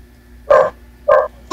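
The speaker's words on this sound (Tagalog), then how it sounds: "Yung aso sa kapitbahay." A neighbour's dog gives short, hoarse barks, three separate yelps over a faint steady hum, fairly close and loud.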